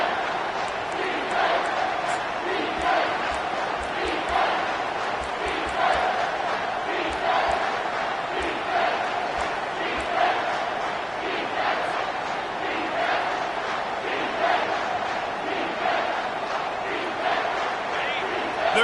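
A stadium crowd at a football game roaring steadily behind the home defense in the red zone, a dense sustained wash of voices with rhythmic chanting swells.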